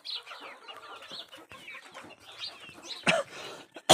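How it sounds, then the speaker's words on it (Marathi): A brooding hen on a farm gives scattered, uneven clucks at close range, ending in a sharp, loud burst. "आपण इथं पण एक कोंबडी बसवलेली आहे."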